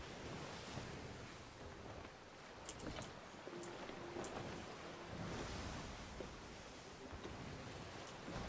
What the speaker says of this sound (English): God, these waves are fucking rough.